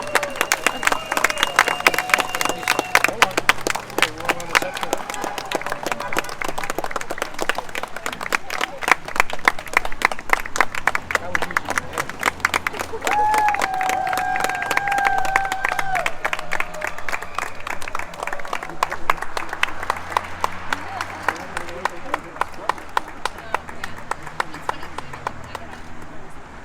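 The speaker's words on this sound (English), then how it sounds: "And everyone give Peggy Whittaker a huge round of applause" A crowd applauds at a ribbon-cutting ceremony for a pedestrian bridge over a road on the Schuylkill River Trail, clapping steadily for the ceremonial first walk, with talk and chatter mixed in.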